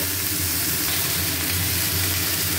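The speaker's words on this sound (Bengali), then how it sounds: "এটা খুব ভালো করে ভেজে নেব।" Vegetables frying in a pan, a loud, continuous close sizzle with a low steady rumble underneath and no voices.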